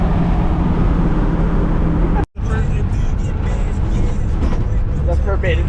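A broken-down truck's engine drones loud and steady, with a deep rumble and road noise throughout, cut by a brief dropout; voices talk over it.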